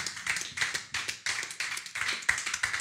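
A church congregation claps in unison during worship: a steady, rhythmic run of hand claps in quick bursts, loud and close, with no talking.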